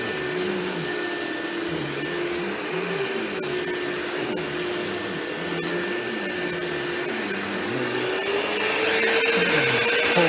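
A Rainbow E2 Black Type 12 canister vacuum cleaner runs continuously on a low-pile rug with a steady, loud whine and airy rush, its pitch rising slightly near the end.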